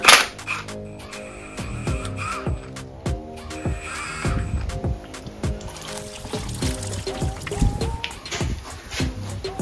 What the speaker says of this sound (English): then we can move on to the big bolt to drain the rest of the coolant out of the block